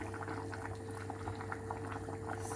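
Potatoes boil in a covered pot with a quiet, continuous bubbling and small pops, close up and with no one speaking.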